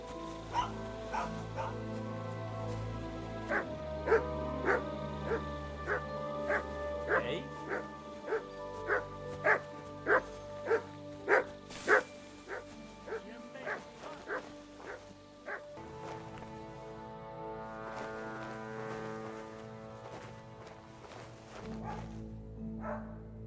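A dog barks on command in Kingdom Come: Deliverance II, a steady series of short, evenly spaced yips and barks over layered background music, with a faint whimper as the barking tapers off.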